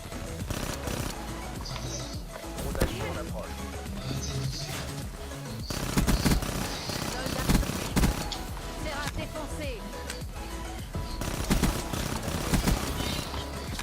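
Rapid gunfire bursts in an online video game match, dense crackling shots and sustained fire with chaotic game effects throughout.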